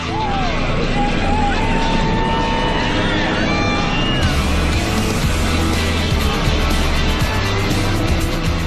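A hollowed pumpkin boat driven by a 15 horsepower outboard motor races across the water, a loud steady engine drone with a whining pitch, heard alongside other boats in the competition.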